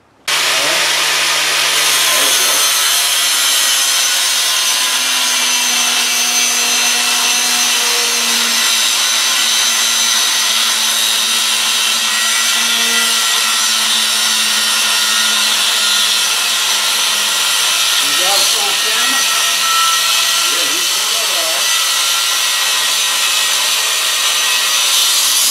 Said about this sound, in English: I got my grinder.